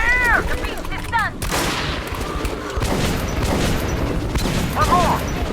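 Sustained gunfire against monsters in Metro Last Light, with loud close bursts of shots and heavy impacts. Shrill creature shrieks cut in at the start and again near the end, and voices shout over the fighting.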